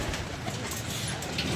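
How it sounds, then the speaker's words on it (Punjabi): Domestic pigeons coo softly through steady background noise, the low throaty calls faint and partly buried, with a hint of voices nearby. "ਇਮਰਾਨ ਸਾਹਿਬ ਜਨਰੇਟਰਾਂ ਵਾਲੇ ਜਨਾਬ ਉਹ ਵੇਖੋ ਥੋੜਾ ਜਿਹਾ ਕਬੂਤਰ ਢਿੱਲਾ ਪੈ ਗਿਆ"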